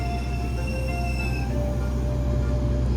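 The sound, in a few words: Argo Dwi Pangga passenger train departing station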